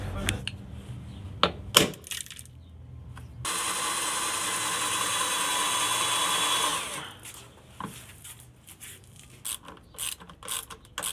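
Bolts are fitted and tightened on a vintage car: sharp metallic clicks and clanks, then a steady whirring run from a powered driver lasting several seconds, followed by more scattered ratchet clicks and knocks up close.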